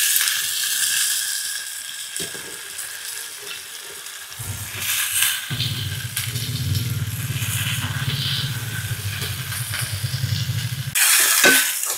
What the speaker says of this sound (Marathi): तर याच्यामध्ये आता मी ही चिरलेली मोहरीची भाजी टाकून देते